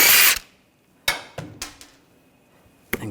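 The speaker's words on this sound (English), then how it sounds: "17mm socket, take the lug bolts out." A power tool with a 17mm socket spins wheel lug bolts out on a 2007-2013 BMW X5 3.0L, sounding as a short opening burst followed by several brief, sharp whirring spurts separated by quiet gaps.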